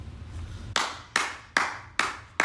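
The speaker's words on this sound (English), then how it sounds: "Mommy, you're clapping for him." Hands clapping in a small room, four sharp claps spaced about every 0.4 seconds after a quiet start, near and clear with no talking.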